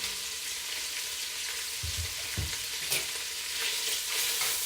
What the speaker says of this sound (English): I'm just going to put these in here and sear them just a little bit.